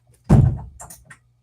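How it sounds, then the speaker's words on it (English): Indoor door closed by hand, a single close thud followed by a few faint rattles and light clicks as it settles, brief and with no talking. "I'm gonna close the door."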